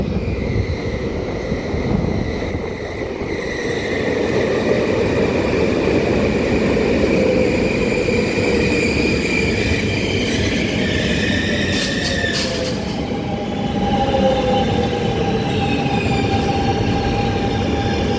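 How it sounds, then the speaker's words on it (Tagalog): An RER commuter train pulls into Noisiel station, its loud rumble building and holding steady, with a long wheel squeal rising midway and fading into a sustained screech as the long train slows at the platform. "So yun ang train paparating."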